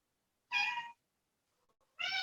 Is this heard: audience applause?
no